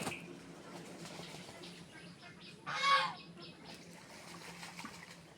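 A domestic goose gives a single loud honk near a pond, rising briefly above quiet outdoor background noise.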